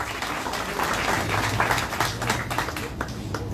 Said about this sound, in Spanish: Azucena Salazar Pineda, un aplauso por favor